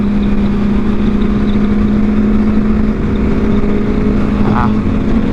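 A Yamaha FZ07 motorcycle engine drones loud and close at a steady, high pitch, holding a sustained rev through the whole stretch without letting off.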